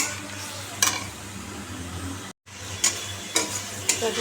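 Spice masala with turmeric, salt, tomato and green chilies fries in a pan while being stirred, a steady close sizzle broken by short scraping strokes and one brief silent gap.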